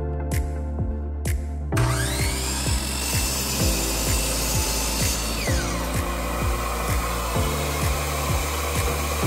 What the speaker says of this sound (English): I'm going to simply measure 12 inches and cut it at that mark